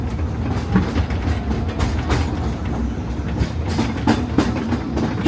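A Disneyland Railroad train rolls along its rails in a jungle-themed stretch of the Grand Circle Tour, giving a steady, close rumble with repeated clacks and metallic clicks and no talk over it.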